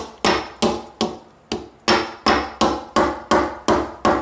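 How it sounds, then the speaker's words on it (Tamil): Crab shells tapped to crack them during cleaning: about eleven sharp, evenly spaced knocks, loud and close, each with a brief ringing decay and no talking. "இதே போல் வந்து எல்லாத்தையும் க்ளீன் பண்ணிக்கலாம், தட்டி எடுத்துக்கலாம்"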